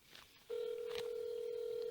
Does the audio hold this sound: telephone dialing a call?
yes